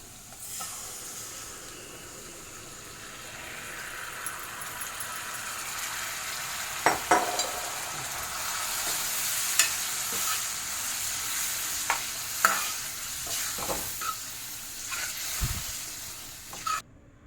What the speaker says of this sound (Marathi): आता आपल्याला हे फेटाळून घेतलेले दही ओतायचं आहे